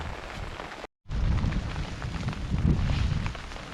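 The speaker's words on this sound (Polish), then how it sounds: "Adam, jak ci się rozbija namiot w deszczu?" Steady rain patters and hisses while a tent is pitched in France, across the whole clip, with a brief dropout of silence near the start and a slightly heavier surge later.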